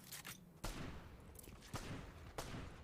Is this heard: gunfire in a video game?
yes